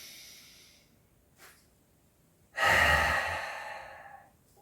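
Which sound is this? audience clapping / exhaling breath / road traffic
exhaling breath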